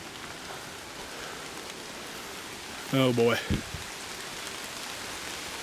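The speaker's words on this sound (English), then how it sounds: "Oh, yep, that's rain." Steady rain falls during a mountain hike, a constant broadband hiss throughout, with someone speaking briefly partway through.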